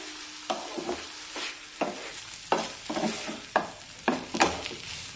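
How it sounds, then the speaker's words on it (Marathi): A spoon scrapes and turns an apple ladoo mixture in a pan over a low flame, with steady, rhythmic stirring strokes roughly every half second, close up, with a faint sizzle beneath and no talking. "मंदाच्यावर हे मिश्रण सतत परतून घेऊया"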